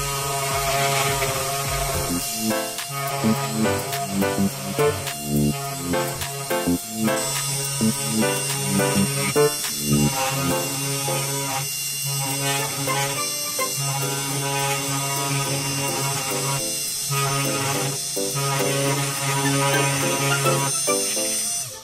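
A CNC engraving machine runs a program, giving a loud, continuous motor whine and buzz with steady tonal hum and shifting pitch as it moves, close and constant with no speech.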